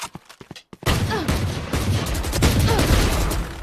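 Rapid bursts of video game gunfire crackle loud and close in a competitive shooter match, after a few sparse shots at the start, with a faint voice underneath.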